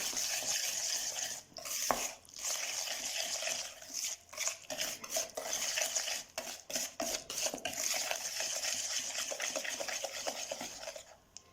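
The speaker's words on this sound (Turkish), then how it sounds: "Şimdi bir yemek kaşığı su ve bir çay bardağı pudra şekerini ilave ettikten sonra yine karıştırıyorum" Cookie dough being stirred after a spoonful of water and powdered sugar are added, a steady scraping and mixing in a bowl with occasional clinks of the spoon, continuous and fairly close throughout.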